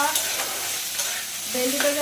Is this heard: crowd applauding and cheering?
no